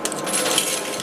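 Coins tumble and clatter steadily inside an arcade coin pusher machine, a dense, loud metallic jingle that runs the whole moment without talk.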